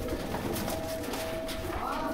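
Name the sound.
Salara pigeons cooing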